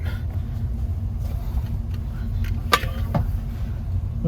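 Family heirloom car engine running on newly fitted FiTech fuel injection on its first drive after sitting for years, a steady low rumble from inside the cabin with a brief clunk midway.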